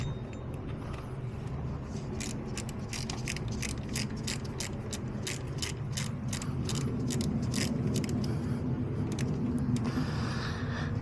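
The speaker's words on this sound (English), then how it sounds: "let me get the socket and the ratchet" Socket ratchet working on the alternator bolts of a Suzuki Aerio with an oil-leak-damaged alternator, a run of quick metallic clicks repeating steadily for several seconds over a constant low background hum, close by with no talking.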